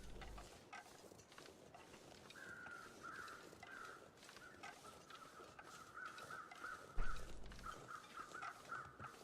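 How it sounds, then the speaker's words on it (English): Crows caw in The Long Dark, two groups calling in repeated harsh bursts at moderate distance over a windy outdoor ambience with a couple of low thumps. "Those crows up there, sounds like there's 2 sets."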